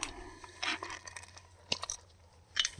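Damp tumbled rocks rattle and crunch inside a drilled, perforated container, in a few separate quiet shaking bursts with gaps between them.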